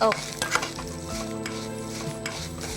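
Oil sizzles in a pan as food fries until brown for a homemade dal with dried mango pieces, with steady crackling, occasional stirring and scraping, and soft background tones underneath.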